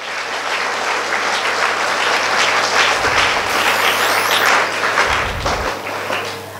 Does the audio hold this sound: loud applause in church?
yes